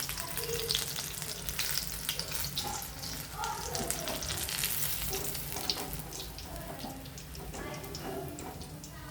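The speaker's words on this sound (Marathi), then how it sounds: "अशा बऱ्याच प्रकारे ते खुरखुरीत असे ते तळले गेलेत" Chili pakoras (mirchi bhaji) fry crisp in hot oil with a steady bubbling sizzle, interspersed with scraping stirs and small clinks, moderately close and fairly quiet.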